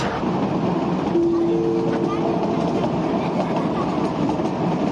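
An up-line train on the mountain line near Unazuki, Japan, rumbles along the tracks moving away, with a steady, continuous roar, a faint tone briefly rising above the noise.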